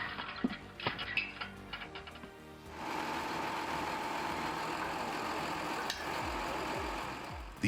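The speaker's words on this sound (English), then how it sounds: "The Iglin WR6 wood splitter is engineered for efficiency." A hydraulic wood splitter, the Iglin WR6, starts with sharp mechanical knocks and clatter, then its engine settles into a steady, loud running drone that continues unbroken to the end.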